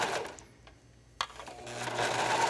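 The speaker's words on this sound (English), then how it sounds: "we're going to continue stitching all the way up the back of the tank top" A sewing machine stitches a knit racerback tank top, its soft whirring motor fluctuating and easing off briefly before running steadily again, with a small click partway through, heard up close and fairly quiet.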